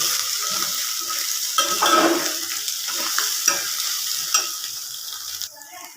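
Egg palya seasoned with coriander powder and salt being mixed in a frying pan, continuous sizzling under brisk scraping strokes of a spatula, close up and without speech.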